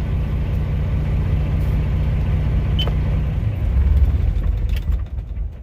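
A Kenworth W900 semi truck's diesel engine rumbles steadily, then surges briefly before winding down and cutting off near the end, leaving near silence.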